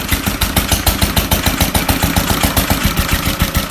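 An International Harvester LB stationary engine runs at wide-open throttle, loud and close, with a fast, steady chugging beat of regular firing pulses.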